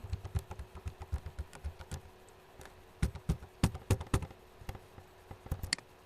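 Steady tapping on a computer keyboard while filling in a web form, irregular keystrokes spread across six seconds with a few louder presses near the end, close and alone without speech.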